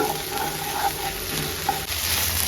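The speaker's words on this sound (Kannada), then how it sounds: "ಅಲ್ಲಿವರೆಗೂ ಇದನ್ನ ಫ್ರೈ ಮಾಡ್ಕೊಳ್ತಾನೆ ಇರಿ" Chopped okra sizzles steadily in a hot pan, a continuous close frying hiss with faint stirring.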